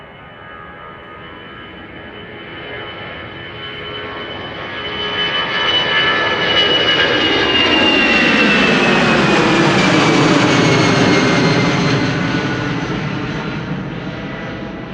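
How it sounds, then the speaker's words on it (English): An EasyJet Airbus A319 jet departs Amsterdam Schiphol, its engine roar swelling from a moderate hum to a loud, sustained climb-out rumble that peaks near the middle and then slowly fades, with no talking. "EasyJet up next, an A319 to Eden"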